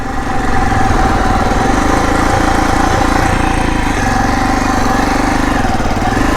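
Bajaj Pulsar 220 motorcycle engine running steadily through a slow U-turn, a loud, continuous close-up drone with a rough mid-range rumble and no speech over it.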